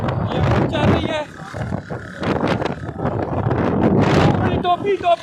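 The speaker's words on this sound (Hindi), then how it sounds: "ये शाम के टाइम में आंधी आ गई है जी। ओए होए होए, ये हवा चल रही है।" A strong evening windstorm at Khanpur Dam buffets the microphone in heavy, roaring gusts, with someone talking excitedly over the wind close by.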